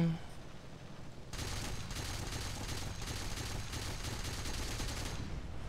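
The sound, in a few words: gunfire in War Thunder video game, Hs129B2 getting hit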